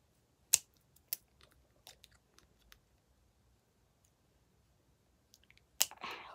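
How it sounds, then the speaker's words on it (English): Scissors snip through a firm jelly fruit in a few sharp, isolated clicks and crunches, spaced out with quiet gaps between them and a final cluster of cuts at the end. "So we're going to be snipping it."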